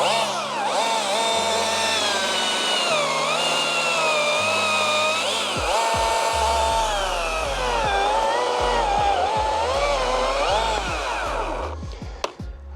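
A Greenworks OCS 500 chainsaw, a 50 cc class saw, runs loud and close, its engine note rising and falling through several rev changes before cutting off at the end.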